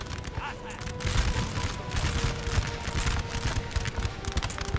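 Musket volley fire in the Napoleonic battle game NTW 3, with dense, overlapping crackling shots rolling continuously under a busy battlefield din, close and loud throughout.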